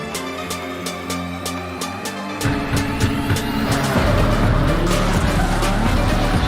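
Race cars cornering side by side on the Daytona road course in the iRacing video game, with loud droning engines, a downshift and rising revs, and squealing tires as a second car joins the pack.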